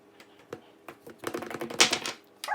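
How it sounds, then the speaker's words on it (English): Dice rattle and clatter onto a tabletop in a quick burst of hard clicks that builds and then stops, close and crisp, with no voices. "who wants to roll the dice?"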